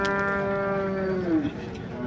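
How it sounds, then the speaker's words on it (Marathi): A young first-calf heifer tied to a stone at a livestock market moos once in a long, drawn-out call that bends downward at the end, close by, with faint background noise. "कालवड आहे"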